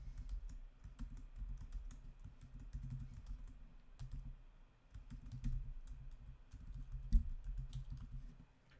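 Keys clack in quick irregular bursts on a computer keyboard as a variable name is typed, close and fairly quiet over a low hum, with no talking.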